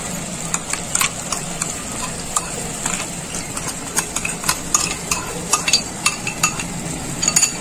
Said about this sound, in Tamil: இந்த மசாலா வந்து நல்லா வதங்கி எண்ணெய் பிரிஞ்சு வர அளவுக்கு நம்ம வந்து இதை வதங்கி எடுக்கணும்